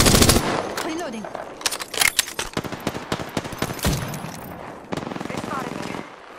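Rapid automatic gunfire in the Apex Legends video game crackles in dense bursts and single shots, loud and close, with game effects layered around it and no one speaking over it.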